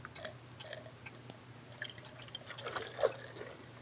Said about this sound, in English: I'm going to pour some down here to the drain.